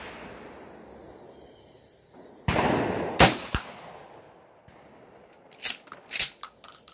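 A 12 gauge shotgun fires a rifled slug during an accuracy test: one sharp, loud blast stands out over faint outdoor insect hiss, followed by a few smaller clicks and knocks from handling the gun.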